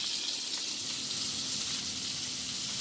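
Filet mignon sears on its sides in a hot pan, producing a steady, close, hissing sizzle with no talking.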